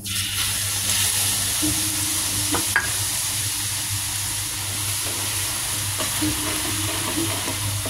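Garlic sizzles steadily in a hot pan while dried scallop is being cooked, a constant close frying hiss broken by a few sharp stirring scrapes.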